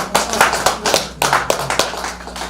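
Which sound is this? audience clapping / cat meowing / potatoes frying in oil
audience clapping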